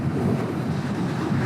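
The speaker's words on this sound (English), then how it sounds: "It's windy and noisy." Rumbling wind buffeting the microphone while a rider commutes on a 2019 Honda Super Cub motorcycle through Houston, a steady loud low roar that covers everything, close and continuous with no talking.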